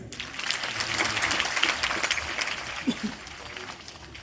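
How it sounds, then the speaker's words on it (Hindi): A crowd breaks into steady, enthusiastic applause at a school inauguration event in Haryana, with a voice speaking over the clapping. "जोरदार तालियां"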